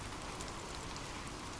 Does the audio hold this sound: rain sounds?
yes